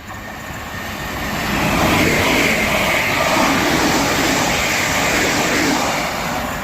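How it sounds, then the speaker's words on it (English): A Class 365 electric train passes through Hadley Wood station in the evening, a steady broadband rumble and rush that swells after the first second and holds loud and close throughout, with no talking. "the next train to pass by is going to be a 365"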